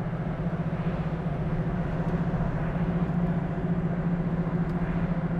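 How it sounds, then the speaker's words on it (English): A 1968 Chevrolet Camaro SS with a 350 V8 idles steadily nearby, a smooth, continuous low rumble with a faint whirring overtone and no talking. "What a nice running car."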